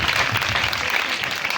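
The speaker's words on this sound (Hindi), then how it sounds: "जोरदार तालियां बजाएं।" Congregation at a church worship gathering claps loudly and continuously, a dense, even wash of hands with no speech on top.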